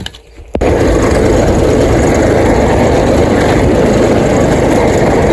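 A tractor engine suddenly roars up and keeps running loud and steady, a deep rumbling drone close by.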